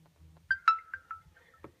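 A Nokia phone powering on with its battery critically low, playing a short tonal startup jingle of a few bright chiming notes in quick succession, close and alone, followed by a faint trailing beep.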